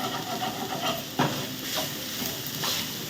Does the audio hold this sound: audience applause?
no